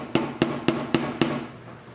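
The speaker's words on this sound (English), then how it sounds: "I got a little hammer on standby just to give them that little bit of encouragement" A small hammer taps needles into a DIY needle wheel impeller, five light, evenly spaced metallic knocks close to the microphone, then silence.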